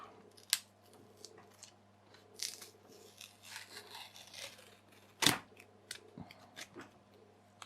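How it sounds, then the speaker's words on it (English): Packaging being peeled off a faulty 3S LiPo battery pack: quiet, close crinkling and scratchy tearing, broken by two sharp snaps, with no voices. "So if I pull this packaging off,"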